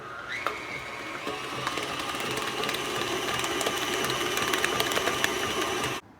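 An electric mixer beats 16 ounces of cream cheese with a cup of butter for a hummingbird cake, whirring loudly and steadily with rattling clicks for about six seconds before it cuts off abruptly.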